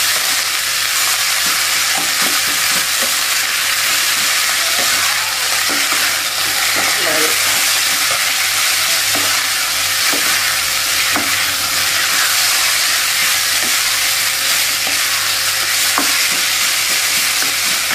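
Loud continuous sizzling of rice stir-frying in a wok, with the rhythmic scrape of a spatula stirring against the pan, going on steadily without talk.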